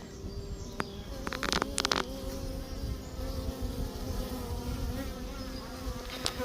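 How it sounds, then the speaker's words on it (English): Dense, continuous buzzing of many honey bees in a hive, close and steady, with a few sharp clicks and knocks near the start. "you can see in here, this is all bees."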